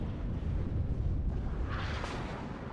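Artillery rumbles in the strategy game WARNO as a deep continuous booming roar, with a brighter crackling burst of impacts rising midway.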